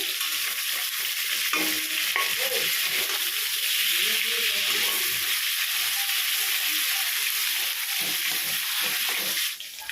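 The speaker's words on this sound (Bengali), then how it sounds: "মাছগুলো একটু ভাজা হয়ে গেছে, আমি উল্টে দিচ্ছি।" Prawns frying in hot mustard oil in a pan just after being turned over give a steady, loud, close sizzle that carries unbroken through the whole stretch, with faint low tones underneath.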